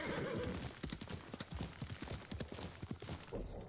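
Rapid, muffled horse hooves clip-clopping in Ghost of Tsushima, a quick regular gallop-like rhythm with a neigh at the start, fairly close and steady throughout.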